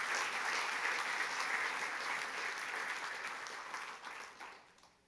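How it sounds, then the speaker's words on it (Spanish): A church congregation claps steadily for several seconds in a dense, even burst of applause that fades out at the end, with no voices over it. "Dele fuerte el aplauso al Señor."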